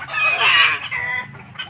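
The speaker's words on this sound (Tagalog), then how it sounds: "Yan yung mga panabong na manok" Close by, a fighting rooster gives a loud, strained crow followed by short clucks, with no other sounds around it.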